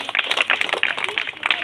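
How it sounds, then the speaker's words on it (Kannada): Loud applause from a school audience at a student award ceremony, a dense burst of many hands clapping close by with a steady, rapid rhythm. "ಜೋರಾದ ಚಪ್ಪಾಳೆ ಬರಲಿ."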